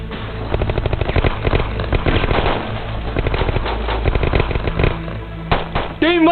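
Rapid automatic gunfire from a TV drama firefight, loud and close, with dense bursts of shots overlapping for several seconds before a brief pause and more firing.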